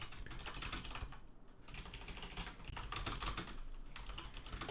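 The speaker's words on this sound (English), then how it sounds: "is my keyboard really loud when I'm typing a message?" Rapid clacking of a computer keyboard as a message is typed during a Star Wars Unlimited card tournament stream, a continuous patter of key presses at close range with faint room noise.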